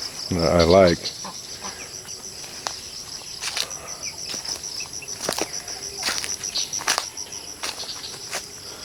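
Chickens settling to roost in low trees outdoors, with one brief loud cluck near the start, then faint scattered rustles and clucks over a steady insect drone.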